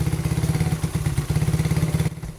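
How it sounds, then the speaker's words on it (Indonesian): A Suzuki Satria FU motorcycle fitted with a PE 26 carburetor and Predator CDI idles high, a close, loud, fast and even engine throb that drops off abruptly at the very end. "Terus kita naikin stasioner gasnya ya biar gampang nyetelnya."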